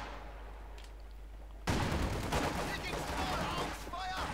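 MG42 machine gun fire in the World War II strategy game Company of Heroes 2 bursts in suddenly, a loud, dense rattle of battle noise under a commentator's voice.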